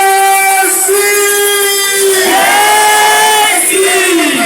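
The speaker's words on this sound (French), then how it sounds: "La prochaine fois, nous allons crier Jésus, Jésus, et nous allons applaudir." Church congregation at a night prayer service shouting together in a loud, sustained mass of voices, long drawn-out cries rising and falling, close and continuous with no pauses.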